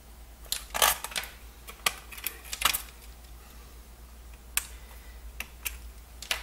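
Fingers typing on a sturdy Coleco Adam computer keyboard, irregular clacking keystrokes close up, some quick bursts and isolated taps, no talking.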